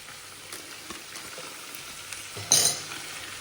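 Meat frying in a pot for Uzbek-style plov, a low sizzle with soft scrapes and one louder clattering stir of a utensil against metal near the end, no voices.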